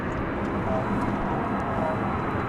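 A large cargo airplane at DFW Airport at night, a steady, loud, broadband engine roar that holds constant without a break, heard from fairly close by.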